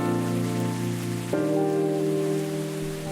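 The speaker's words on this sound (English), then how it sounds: "Listen to this high fidelity rain while I'm gone." High-fidelity rain falls steadily and close, a dense even hiss that runs without pause, with a low sustained tonal drone underneath.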